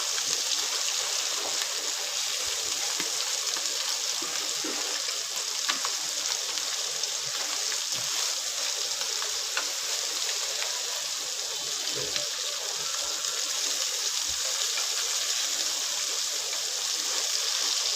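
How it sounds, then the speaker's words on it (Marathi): Small mandeli fish frying in a pan in the Malvani style, producing a dense, steady hiss and sizzle of hot oil, loud and close, with occasional soft knocks and no one talking. "दोन्ही साईडने अशी व्यवस्थित फ्राय करून घ्यायची"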